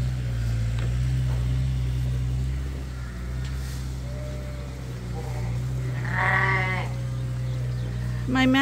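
Lambs on a sheep farm bleat in a few short calls over a steady low hum, with a louder, nearer bleat late on and quieter animal sounds between.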